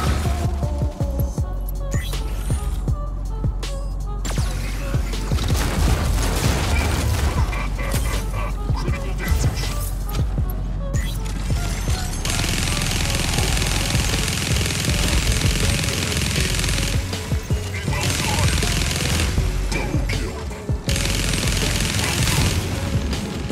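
Mortar fire and mech combat in the video game Mech Arena, a dense continuous barrage of booms, rattling bursts and mechanical clanks filling the whole stretch at high loudness.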